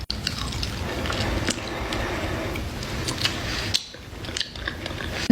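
Chewing on gutted, salted fish with its skin on, close to the mic, producing steady moist mastication and occasional biting clicks with no one talking.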